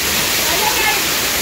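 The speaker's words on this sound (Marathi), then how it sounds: "जाम पाऊस पडतं" Heavy monsoon rain and water pouring into a house make a steady, loud, dense hiss that stays unbroken from start to finish, with a voice faintly under the noise.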